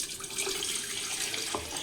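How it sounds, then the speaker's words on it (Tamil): Water is poured into a tumbler, a soft continuous trickling splash with a faint gurgle near the end, quiet and close. "நம்ம வந்து தண்ணி வந்து ஊற்றிக்கலாம்."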